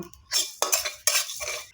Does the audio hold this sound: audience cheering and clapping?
no